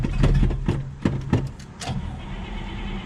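A small engine, freshly started after sitting without a pre-start and running a little loaded up, revs briefly under light throttle with a few rough pulses before settling into a steady idle, close and loud.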